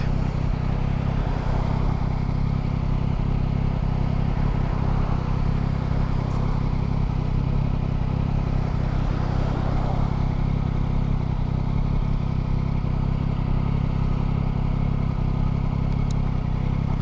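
A 2023 Yamaha MT-09 motorcycle engine idling in neutral, a steady low rumbling drone held close and unchanging throughout, with faint mechanical clatter on top.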